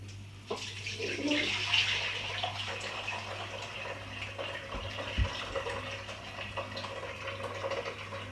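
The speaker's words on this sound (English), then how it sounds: "And now I'm gonna just pass it through this filter" Home-brew wort poured through a filter, a soft steady trickle and splash of liquid at close range under a low hum, with a brief clunk midway.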